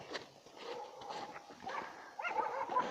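Chico, a dog walking through a village, barks and whimpers intermittently at a fair distance, soft and scattered over a few seconds, with a slightly stronger cluster near the end.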